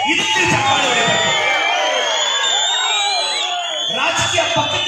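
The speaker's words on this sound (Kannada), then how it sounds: "ಇದಕ್ಕೆ ಚಪ್ಪಾಳೆ ಹೊಡಿಬೇಕು" Loud crowd at a political rally cheers, whoops and yells in a dense continuous roar, with overlapping shouts and some clapping close around.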